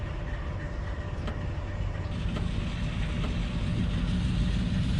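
Train starting to move in a train-driving video game on the Blue River Mainline, a steady low rumble of engine and rolling wagons with faint clanks, continuous and moderately loud throughout.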